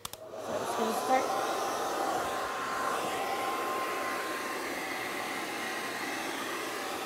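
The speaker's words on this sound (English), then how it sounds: "it's time to start diffusing" A hair dryer fitted with a diffuser blows with a steady, loud whoosh, running continuously from start to finish with no talking.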